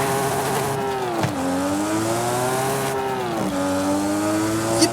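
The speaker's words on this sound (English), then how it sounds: "I'm gonna shift without the clutch and listen to this" A car in Forza Horizon 5 shifts gears without the clutch, the engine note dropping abruptly at each of two shifts before rising again, a continuous buzzing drone with no voices.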